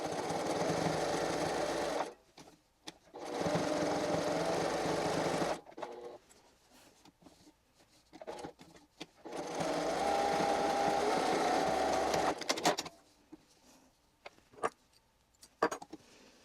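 A sewing machine stitches a reusable kitchen cloth in several close, steady runs of a few seconds each, separated by quiet pauses with small handling clicks.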